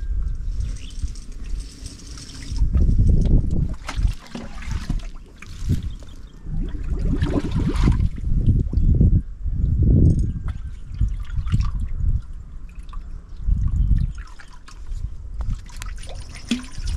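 Trickling and dribbling water in a freshly dug sandy well, irregular wet gurgles and splashes rising and falling in bursts, close and moderately loud.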